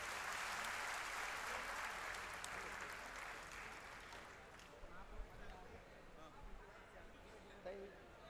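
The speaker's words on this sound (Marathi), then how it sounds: "त्यांचं स्वागत करा जोरदार टाळ्या वाजवून" A crowd at a political rally in Amravati claps to welcome a guest, loud applause that fades and thins after a few seconds into scattered claps and background murmur.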